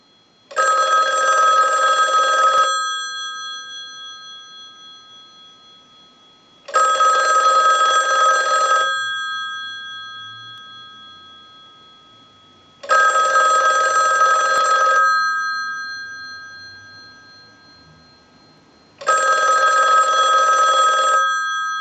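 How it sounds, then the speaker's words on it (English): A Western Electric Model 500 desk telephone rings loud and close as a test analyzer sends a ring cycle: four bursts of bright, rattling bell tone, each about two seconds long, separated by roughly four-second pauses. "send a ring cycle like you were getting a call"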